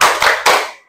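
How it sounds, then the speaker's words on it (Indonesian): Students in a classroom clap their hands, two loud sharp claps with a short gap between them, each trailing off quickly, with no talking. "Tepuk 3,"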